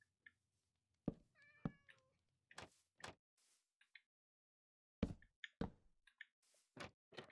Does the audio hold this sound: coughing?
no